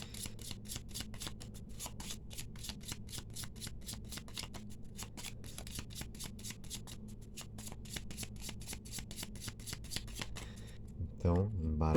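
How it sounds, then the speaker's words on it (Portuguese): An orange-backed oracle deck decorated with angels and stars is shuffled and cut, giving a dense, rapid run of crisp card riffles close by, with someone speaking faintly underneath. "embaralhei aqui suas cartas, fazendo um corte no monte"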